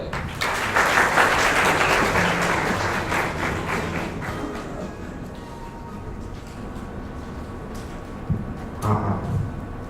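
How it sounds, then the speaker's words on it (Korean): A room full of people at a blockchain conference session claps, loud at first and gradually thinning out, followed by a few scattered thumps near the end. "박수로 맞아주세요."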